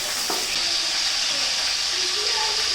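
Cumin, bay leaf, curry leaves and garlic sauté in hot oil in a pan for a village-style rassa, giving a loud, continuous close sizzle and hiss throughout.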